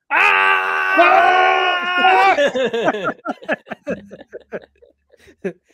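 A loud, sustained scream used as a comic sound effect, held for about two seconds before breaking into shorter yelps and gasping cries that trail off.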